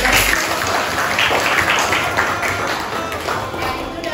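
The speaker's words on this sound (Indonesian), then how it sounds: "tepuk tangan untuk Jessica" A room of people applauds for a presenter named Jessica after a group presentation at a teachers' coaching session, dense steady clapping that starts loud and slowly thins toward the end.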